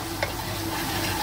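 Ground spices such as coriander and cumin powder are stirred in a frying pan, a soft brief scrape over a low steady sizzle.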